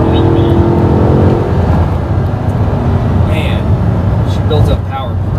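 V8 car engine pulling hard past 4,500 rpm, a loud continuous rising roar heard from close by, with no talk over it.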